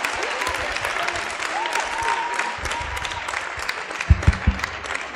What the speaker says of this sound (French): vous pouvez vraiment encore les applaudir parce qu'ils ont fait un boulot incroyable